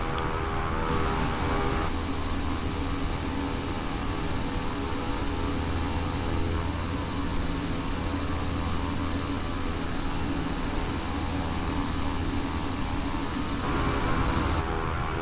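Steady droning engine of a BA-609 tiltrotor in Flight Simulator X, a continuous low hum with propeller-like buzz and broad airy rush holding at an even level throughout.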